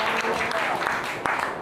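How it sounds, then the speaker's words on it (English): An audience claps together on a spoken cue, a burst of crowd applause with a few distinct sharper claps standing out, dense and close. "When I say Lamaku, four claps."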